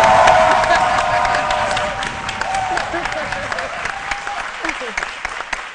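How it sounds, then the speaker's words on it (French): Audience applause, loud at first and gradually thinning into scattered claps, with a voice speaking over the start. "je trouve quand même que c'est faible, les applaudissements pour Dieu"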